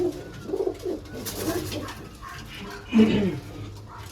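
Pigeons coo close by in a loft, soft throaty calls coming at the start and again near the end over a quiet background.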